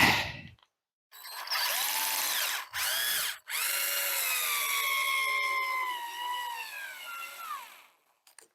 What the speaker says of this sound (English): there's no way that drill's going to make it for this whole project. It's creeping along on screw number 2